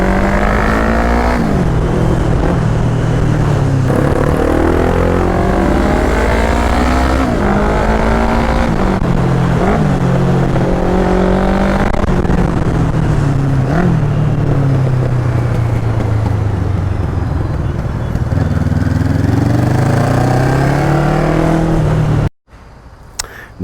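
A Honda CB 500 motorcycle engine running through a counterfeit Akrapovic exhaust, loud and close, rising and falling as it revs repeatedly, cutting off abruptly near the end.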